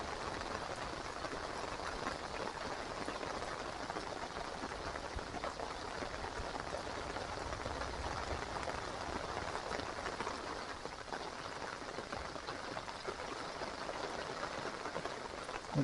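Steady rain falling outdoors, a continuous even hiss of drops on surfaces with no pauses, fairly soft and uniform throughout.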